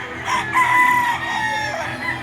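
A gamefowl rooster crows loudly and close, one long drawn-out call with strained tonal bands, over a steady background of other fowl at a game farm.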